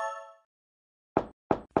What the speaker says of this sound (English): Will you knock on the door?